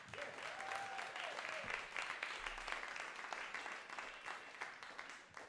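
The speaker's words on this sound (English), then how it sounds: "How about one more round of applause for John Evans and Mike Ethan Messick?" Steady applause from an audience at a live band's album release show, a dense wash of clapping that carries on throughout at moderate volume.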